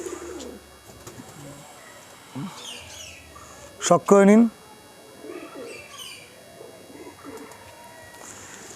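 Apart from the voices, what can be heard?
pigeons cooing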